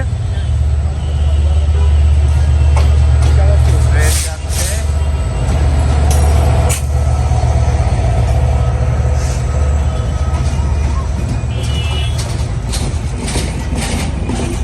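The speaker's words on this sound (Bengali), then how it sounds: "ট্রেন আসিতেছে" A Bangladesh Railway intercity train arriving, its heavy low rumble and wheel clatter loud and steady throughout, with brief higher screeches and rattles, while people talk faintly nearby.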